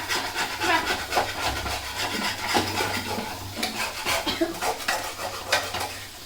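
A utensil scrapes hardened, stuck-on food loose from the bottom of a cooking pot, with repeated rough strokes and clatter close by and no one speaking.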